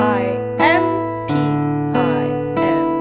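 Fingerstyle guitar notes rolling in quick triplet arpeggios over a low sustained bass note, clear and close, with a fresh pluck attack roughly every half second.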